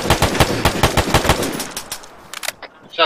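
Rapid automatic gunfire in the Arma 3 military shooter, a dense, loud burst of evenly spaced shots that thins into scattered distant reports and a few closer pops near the end.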